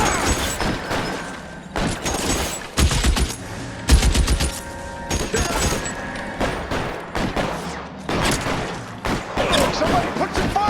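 A PC L.A. Noire shootout: loud bursts of rapid gunfire, single cracks and heavy booming hits repeat in clusters across the scene, with occasional shouted voices between volleys.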